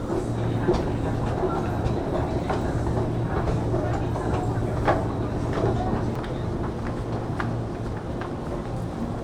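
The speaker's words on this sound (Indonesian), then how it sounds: "KA 542 di jalur 2 yang keluar" Indonesian commuter train KA 542 pulling out of a station platform, a steady loud rumble of wheels and carriages with faint rhythmic clacks, heard close by with station ambience.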